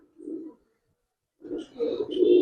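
Giribaz pigeons coo close by: a soft low coo, a pause of about a second, then a longer, louder burst of throaty cooing with faint higher chirps layered over it.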